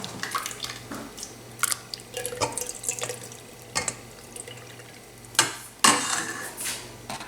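Whey dripping and trickling from freshly drained homemade Moroccan jben cheese, a run of irregular close wet drips and small splashes over a low steady hum, with a louder splash near the end.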